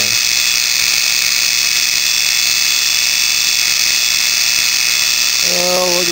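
G0704 milling machine motor spinning at high rpm, a steady loud whine with a constant high tone throughout, with a faint voice briefly heard near the end.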